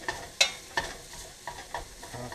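Sausage meat fries in a pan on an RV stove, giving a low steady sizzle broken by a few sharp clicks and scrapes of a utensil stirring it.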